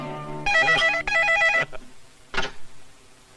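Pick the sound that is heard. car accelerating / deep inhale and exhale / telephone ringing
telephone ringing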